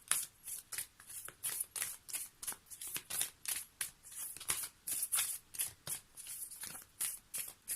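Tarot cards being shuffled and drawn: a quick steady riffle of rapid papery flicks repeating in regular bursts, close and soft, with no talking over it.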